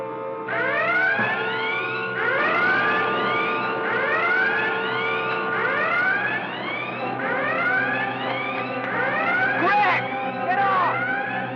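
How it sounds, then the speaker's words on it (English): Repeated rising wail of a warning siren, sweeping upward in overlapping cycles about every two seconds, loud and steady throughout with a constant mechanical hum beneath. "The warning siren!"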